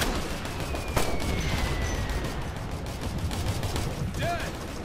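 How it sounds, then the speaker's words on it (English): Rapid gunfire crackles continuously in the military shooter Operation Flashpoint: Red River, with one sharper nearby shot early on and a dense spread of distant pops and battle noise throughout. "We're getting shot at!"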